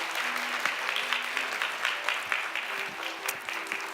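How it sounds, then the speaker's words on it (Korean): A church youth service congregation claps in congratulation for a newly appointed group leader, a steady crowd applause of moderate loudness with a few sharper claps standing out. "축하의 박수 부탁드립니다"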